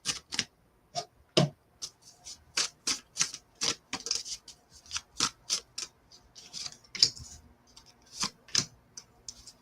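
Cards are shuffled and handled for a pick-a-card reading. Sharp, dry snaps and riffling clicks come in quick irregular bursts, close and fairly quiet, with no voices over them.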